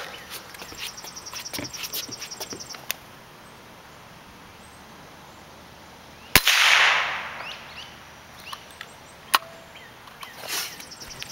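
A single sharp, loud crack from an RWS 54 Air King air rifle firing a pellet past the sound barrier outdoors, followed by a brief hissing trail, with a few fainter clicks and handling knocks around it.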